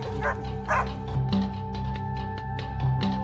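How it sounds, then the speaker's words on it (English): Hunting dogs bark and yip repeatedly in a forest, a pack of several voices overlapping at varying distances, with short whimpering yelps between the louder bow-wow barks. "the sound of hunting dogs echoed through the forest, like a warning bell"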